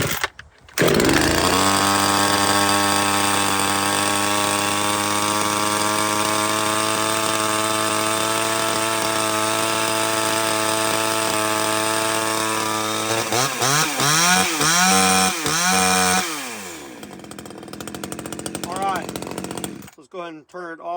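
A petrol chainsaw, a budget Amazon model compared against the ECHO 2511T, runs at a steady loud idle for about twelve seconds, then revs up and down in bursts before cutting off near the end.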